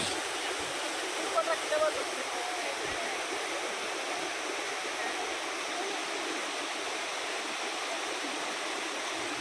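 Ananthagiri waterfall in Araku valley pours as a dense, constant rush of white water, loud and close throughout with no break.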